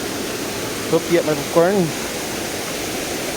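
Steady rushing roar of Bangon Falls in Briato, a constant broadband wash of falling water filling the whole scene, with a brief voice speaking briefly over it.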